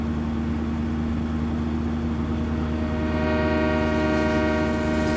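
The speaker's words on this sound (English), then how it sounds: "Oh, there's the train." A long train rumbles past on a California Central Valley map in the Farming Simulator 2015 video game, a steady loud engine drone with a sustained horn-like tone building toward the end, no talking.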